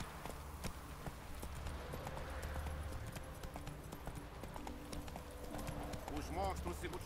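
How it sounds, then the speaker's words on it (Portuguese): Horse galloping in The Witcher 3 video game, a rhythmic clip-clop of hooves at a steady running pace under game music and background sound, with someone talking over it. "Posso correr com o cavalo aqui,"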